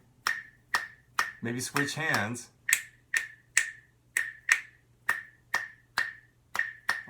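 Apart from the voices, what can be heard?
finger snapping the Bo Diddley beat rhythm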